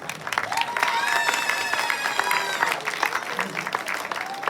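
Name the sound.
applause for team members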